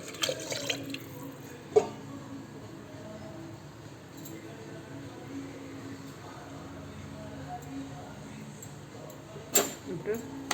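Three cups of water poured into a cooking pot for pongal, a steady splashing wash with a few sharp clinks near the start and end, faint voices in the background.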